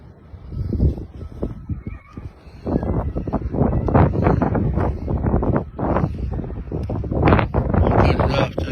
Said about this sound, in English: Windy afternoon.